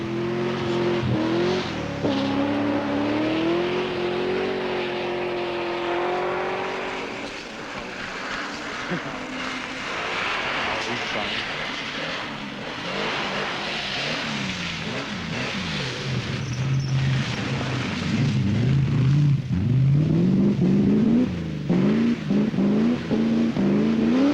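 A Triumph TR7 rally car on ice during the 1979 Mintex rally, its engine revving and droning loudly and steadily with rising and falling pitch, up close for the whole stretch.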